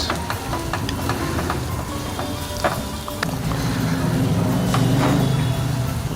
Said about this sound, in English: How long have you been sauteing and stirring the rice in the pan?